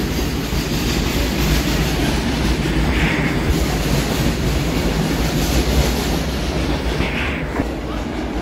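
A passenger train on the Raniganj to Varanasi run rumbles steadily from inside a third AC coach, with a loud continuous roar, rhythmic wheel clatter and faint squeals, no speech.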